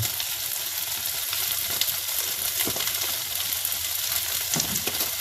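A steady, loud sizzle of kway teow flat rice noodles and garlic stir-frying in a hot wok for tom yum hor fun, a constant crackling hiss with faint clinks of stirring and no voices.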